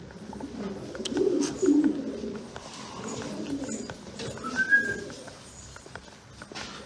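Low pigeon coos rise briefly against background noise and voices at a pigeon auction, with a short whistle-like chirp partway through.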